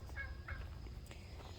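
A couple of faint, short poultry calls from a backyard flock of a rooster, a turkey and Peking ducks, distant and soft over a low outdoor rumble.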